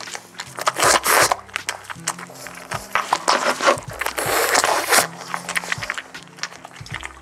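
A dog crunches into a small homemade birthday treat, giving irregular dry crackles and bites in short bursts, close and fairly loud, with a little talk now and then.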